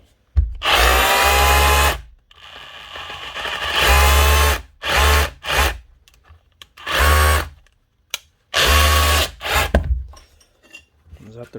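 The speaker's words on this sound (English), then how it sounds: "Dewalt cordless SDS drill. That was the brushless version" A brushless Dewalt cordless SDS drill, faulty and not rotating, runs in several separate bursts of loud, close whirring and rattling motor noise, broken by short silent gaps.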